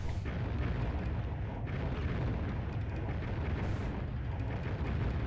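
A bomb in the video game Alundra goes off as a loud, sustained rumbling blast, heavy and close, with a second burst of bright crackle near the end.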